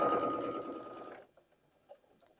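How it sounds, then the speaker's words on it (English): A sewing machine stitches fabric in a fast, steady whirring hum close by for just over a second, then stops, leaving faint handling sounds in near silence. "I'm just going to sew 1/4 inch all the way down"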